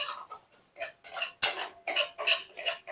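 A metal spoon stirs caramel in a pot for mishti doi, giving a quick, regular series of bright scraping clinks, close and fairly loud with short gaps between strokes.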